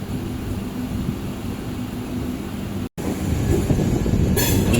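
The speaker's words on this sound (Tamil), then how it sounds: "பிளாட்ஃபார்ம் நம்பர் 2ல் போகுது நம்ம ட்ரெயின்." A MEMU passenger train rolls into platform 2 at Karur station, a steady broadband rumble of wheels and carriages broken by a brief dropout, then a louder, hissier rush as it draws nearer.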